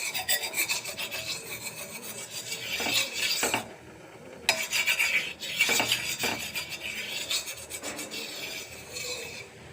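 Oil rubbed across a heated iron griddle while making sorghum-flour dosa, a steady close scraping and rasping that rises and falls in broad strokes with brief pauses, no voices.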